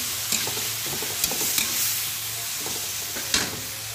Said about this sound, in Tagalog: At luto-lutuin na po ang ating kamatis.